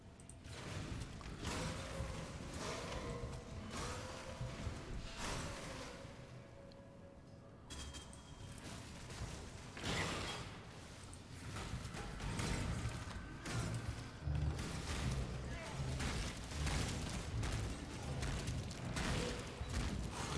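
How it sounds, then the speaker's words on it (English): Corpse Explosion skill in Path of Exile: a dense barrage of bursting blasts and crunching impacts keeps rolling over game effects, loud and busy throughout. "Watch Big Time Corpse Explosion."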